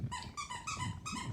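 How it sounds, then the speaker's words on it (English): Several dogs play with new squeaky rat toys, giving repeated bursts of high squeaking with low growls and snuffling between them, close by and fairly quiet. "These are my dogs. Sorry, little intermission here. They got new squeaky toys."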